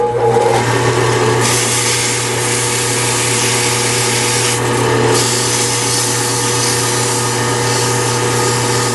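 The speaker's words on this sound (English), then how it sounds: "let's go ahead and sand that with some 320 grit sandpaper" Steady rubbing rasp of 320 grit sandpaper worked by hand over a small turned wooden honey dipper, continuous and close throughout, with a low constant hum beneath.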